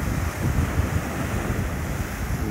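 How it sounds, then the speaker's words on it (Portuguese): Rough, encroaching sea surging against a beach at Pau Amarelo, Paulista, a continuous dense roar of waves with heavy wind rumble on the microphone and no speech. "Olha o mar como é que fica, brabo, querendo espaço pra passar."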